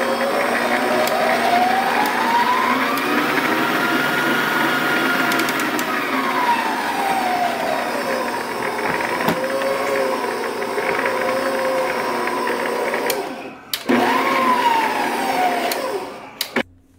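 A stand mixer beats a thin cake batter, running steadily and loudly as a continuous whirring motor with slowly shifting pitch, close up and uninterrupted for most of the span before cutting off briefly near the end.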